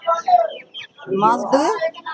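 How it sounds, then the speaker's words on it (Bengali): Sonali and desi chickens at an open-air poultry market in Sarisha, South 24 Parganas, giving close, loud clucks and squawks in quick bursts, with talk mixed in. "এগুলো সব সোনালি মুরগি না দেশি মুরগি"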